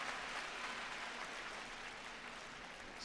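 A crowd applauds at a table tennis match, a sustained wash of clapping heard steadily throughout, fairly distant and even in level.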